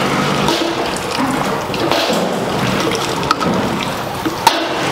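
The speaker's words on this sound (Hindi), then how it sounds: "अभी इसमें से पहले पानी लाइन में जितना है उतना निकलेगा" Water draining out of a soda filling machine line into a bottle, a steady loud trickling gush with a few small splashes and clicks near the end.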